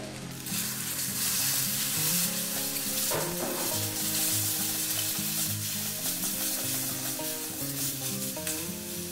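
Cauliflower fries in oil with dry spices, Kashmiri chili and turmeric powder, a steady close sizzle with bubbling crackle and a few scraping stirs of a spatula, loud and unbroken.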